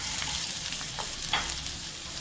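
Curry leaves and round chillies sauté in a hot pan with a continuous bright sizzle and light crackling, close up and steady, with no voices.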